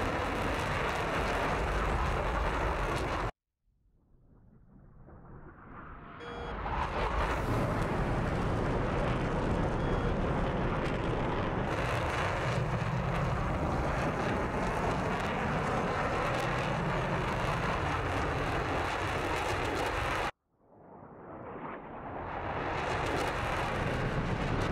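An F/A-18C Hornet jet in the flight simulator DCS World gives a loud, steady engine roar. The noise cuts out abruptly twice and then swells back up.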